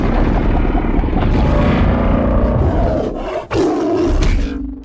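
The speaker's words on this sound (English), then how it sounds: "if you could try without Godzilla's roar, really try to hear this" Godzilla's roar from a stop-motion monster film, a loud, sustained bellowing roar with a grinding, rumbling texture that swells and briefly dips before surging again, filling the whole clip with no talking.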